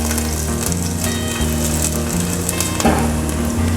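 Chopped ginger and garlic fry in hot oil for a chicken curry, giving a loud, steady sizzle with a brief crackling burst near the end and no talking.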